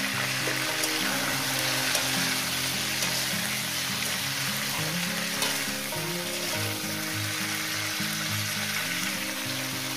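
Potatoes and cauliflower fry with salt in a pan, giving a steady, dense sizzle that runs close and loud for the whole stretch, with no voices over it.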